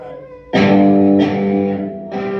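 Heavily driven electric guitar chords through an amp's lead channel hit three times, thick and saturated with sustained ringing between strikes, loud with no voices.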